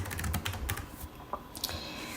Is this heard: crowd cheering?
no